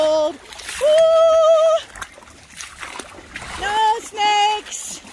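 A hiker wades through a cold stream, with water splashing and sloshing around the feet. Loud voiced whoops and exclamations ring out over the splashing.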